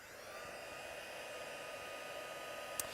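A heat tool blows a steady, loud broadband whoosh while drying shimmer ink on card, holding constant throughout with no talk.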